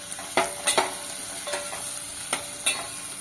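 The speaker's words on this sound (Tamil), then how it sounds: "இப்போது நம்ம கட் பண்ண மஷ்ரூமை போட்டு" Sliced mushrooms sizzle in a pan with chopped green chilies over a high flame. A steady frying hiss runs throughout, broken by several sharp scrapes and clatters of stirring.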